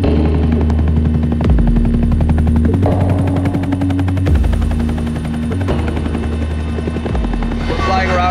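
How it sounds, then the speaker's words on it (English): Loud, close rotor chop and engine whine from a Pemex helicopter in flight over Mexico, a fast steady thudding rhythm that continues throughout. "We're flying around right now in the Pemex helicopter"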